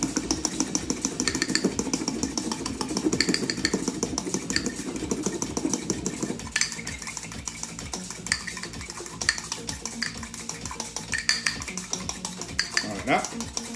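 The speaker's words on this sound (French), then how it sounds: "Et vous les mélangez avec votre fourchette." A fork whisks mustard with a little oil in a bowl, giving quick rhythmic clinking and scraping, busier at first and then lighter and more spaced, with a low hum underneath.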